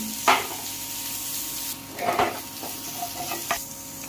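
Onion, tomato and grated coconut sautéing in a pan make a continuous sizzle, with spatula scrapes and stirring bursts recurring every second or so, close and fairly loud; no one speaks.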